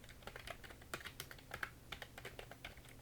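Keys on a computer keyboard clack in quick irregular bursts while someone types text into a word processor, close and fairly quiet, with no talking.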